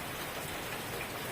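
Heavy typhoon rain pours in a dense, steady hiss that fills the whole span, with no pauses or voices.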